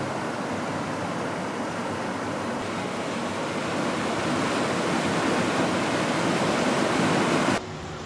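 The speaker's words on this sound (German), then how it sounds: "Nach einer kleinen Wanderung erreichten wir den 93 Meter hohen Wasserfall." A 93-metre waterfall in Sweden roars as a steady, loud broadband rush of falling water, swelling slightly toward the end before cutting abruptly to a quieter wash.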